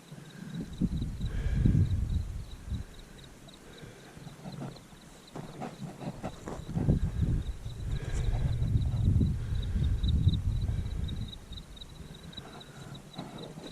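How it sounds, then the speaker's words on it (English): Mormon crickets chirp outdoors in the Nevada desert near the Kennedy ghost town, a steady high trill running through the whole stretch over low rumbling wind and handling noise. "Tons of Mormon crickets out today"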